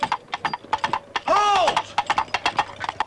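Two empty coconut halves bought at a garage sale, banged together to imitate horse hooves, giving a quick irregular series of hollow clip-clop knocks with a brief spoken exclamation in the middle.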